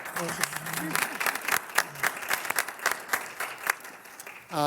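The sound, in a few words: audience applause at school committee meeting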